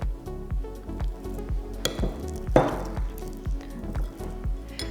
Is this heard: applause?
no